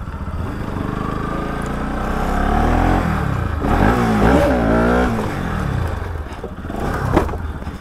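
Motorcycle engine revving hard during a wheelie, a loud close roar that swells and pitches up mid-clip with rising and falling throttle, then eases and surges again briefly.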